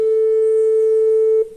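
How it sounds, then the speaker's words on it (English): A synthesizer holds a pure, steady sine-wave tone, loud and unwavering, for about a second and a half before cutting off abruptly. "This is a sine wave."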